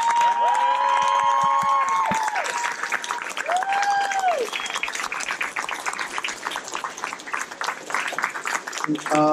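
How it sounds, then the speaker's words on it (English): A crowd at a 5th-grade graduation bursts into sustained applause with scattered cheers and whoops, dense clapping continuing steadily throughout at a loud, close level. "let's give him a round of applause"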